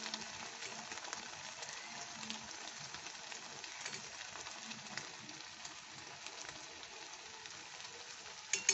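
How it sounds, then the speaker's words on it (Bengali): Jackfruit cutlets fry in oil in a wok, giving a steady, fairly quiet sizzle and crackle that runs evenly throughout with no voices. "এই যে আমি কড়াইতেই ভাজছি"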